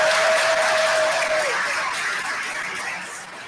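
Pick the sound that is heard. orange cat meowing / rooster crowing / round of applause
round of applause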